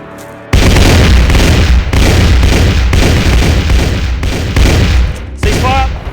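A massed volley of rifle and cannon fire erupts in a movie battle scene, loud and continuous with heavy booming bursts overlapping for several seconds after a quieter lead-in.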